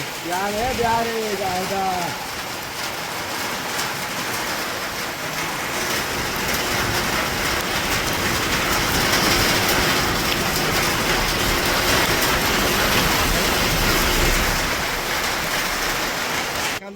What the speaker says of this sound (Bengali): বৃষ্টি এসে গেল দেখুন কি বৃষ্টি হচ্ছে